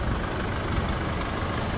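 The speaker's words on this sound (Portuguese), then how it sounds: "Estamos fazendo o aquecimento do motor para conferir o nível." A Chevrolet S10 pickup truck engine idles while warming up, with a steady, low rumble, running continuously without change.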